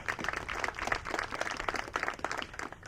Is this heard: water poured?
no